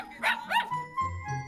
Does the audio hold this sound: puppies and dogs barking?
yes